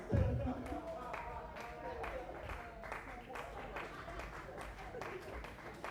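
A comedy club audience claps and murmurs, a faint, diffuse patter of applause at a distance under the low hum of the room, with an abrupt bump at the start.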